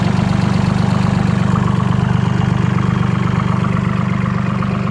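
A Kubota L3608 tractor fitted with a racing exhaust pipe runs close by, its engine giving a loud, steady, throbbing rumble with a fast regular pulse that holds throughout without a break.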